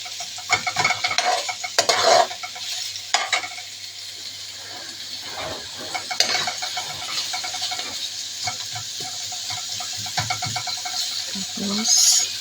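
Onion, garlic and ginger sautéing in a pan for Filipino arroz caldo, with steady sizzling under repeated scrapes and clinks of a utensil stirring against the metal, fairly close and loud.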